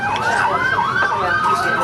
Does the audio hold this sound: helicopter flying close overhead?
no